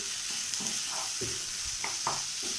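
Capsicum with potato and spice masala sautéing in a pan: a steady, moderate frying hiss close by, punctuated by several quick spatula scrapes and stirs, with no voices.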